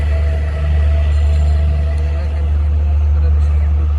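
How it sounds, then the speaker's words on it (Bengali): The Chitra passenger train enters the airport railway station, a loud, steady low engine drone with a continuous mechanical rumble throughout, close by. "বিমানবন্দর রেল স্টেশনে ঢুকতেছে ট্রেনটি।"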